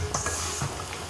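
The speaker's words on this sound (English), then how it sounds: "I'm just mixing it together, making sure that all the flour has got some of that wet ingredient in it." Ginger biscuit dough being mixed by hand as flour is worked into the wet ingredients, giving a brief stretch of soft, steady stirring and scraping with a couple of slightly firmer strokes.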